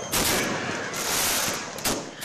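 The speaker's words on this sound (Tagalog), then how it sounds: "Matapos ang misa, nagliwanag ang kalangitan dahil sa napakagandang fireworks display." New Year's fireworks burst in the sky after a New Year's Eve mass in Pangasinan, with dense, rapid crackling explosions in loud overlapping waves and brief dips between volleys.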